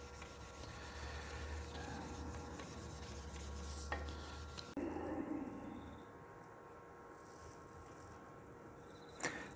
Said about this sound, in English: This is 320 grit sandpaper.